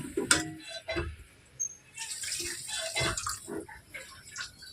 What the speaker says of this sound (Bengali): সেই দিকে আমরা জল দেবো